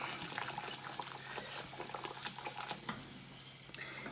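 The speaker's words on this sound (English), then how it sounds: "As you can see, it's been boiling away, and that will then thicken up our soup nicely." French onion soup bubbles away in a pot, a steady soft simmer with scattered small pops and gentle stirring, close and fairly quiet, with no voices.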